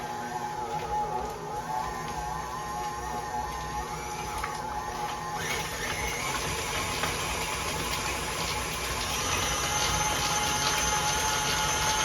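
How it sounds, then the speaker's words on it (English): A stand mixer with the paddle attachment creams butter for carrot cake cupcakes, giving a steady, loud mechanical whir with rattling that continues unbroken for the whole stretch. "I'm going to put the paddle on that and get those 2 kind of combined, what they call, get those creamed together"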